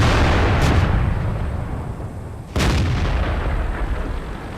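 The Bishop tank destroyer fires its artillery gun in World of Tanks, a deep booming shot over steady battlefield rumble, with a second sharp crack following a couple of seconds later.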